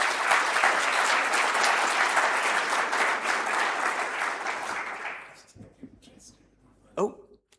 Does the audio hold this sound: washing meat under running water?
no